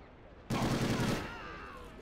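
Burst of rapid gunfire in a WWII Iwo Jima battle video game, a sudden loud volley that cuts off after under a second and leaves a ringing, echoing tail.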